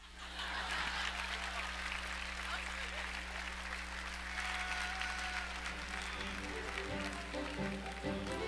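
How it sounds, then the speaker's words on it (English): At the Ball State sports awards show, an audience claps for a dunk, a sustained round of applause that fades slightly as a low hum and faint voices come through near the end. "Can we get another round of applause for that dunk?"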